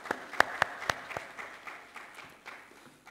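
A modest audience at a Nigerian public event gives a thin round of applause, with a few sharp, distinct claps near the start that soften into scattered, fading clapping.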